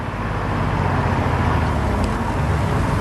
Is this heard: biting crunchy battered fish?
no